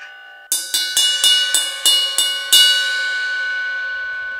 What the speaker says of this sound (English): How's that bell sound?